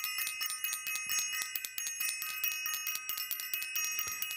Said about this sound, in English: First, I want to ring the bell for self-invested.